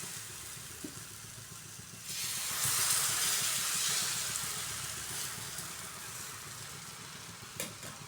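Rava ghavan batter is poured onto a hot pan and bursts into a loud sizzle and hiss that swells, then slowly fades to a quieter fry. The pan is close, and nobody speaks.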